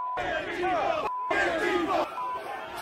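Crowd of insurrectionists advancing on the Capitol, a dense mass of shouting and chanting voices with a short gap in the middle. The crowd stays loud and close throughout.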